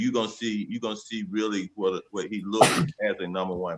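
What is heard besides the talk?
sneeze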